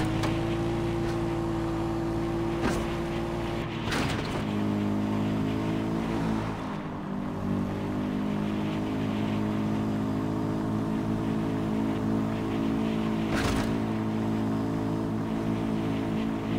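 A car driven in the video game Far Cry 4, its engine humming steadily and loud throughout, with a few sharp bumps or impacts along the way and no talk.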